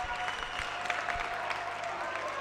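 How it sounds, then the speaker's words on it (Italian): Home fans of Futsal Cesena cheer and applaud in a small indoor arena during a Serie A2 futsal match, a continuous crowd roar with claps and shouts throughout. "manda in visibilio i tifosi bianconeri del Mini Palazzetto"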